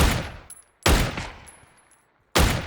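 Three short, loud bursts of automatic machine gun fire in the video game PUBG ring out, each followed by a fading echo, with gaps of silence between them and no voices.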